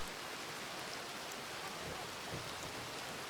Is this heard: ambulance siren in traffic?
no